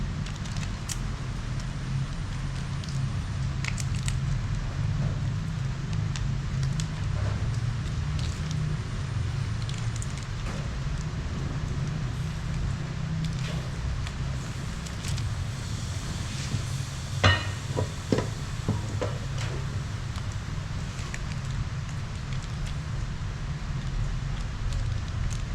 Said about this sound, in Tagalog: Maambon siya guys, umuulan na pala.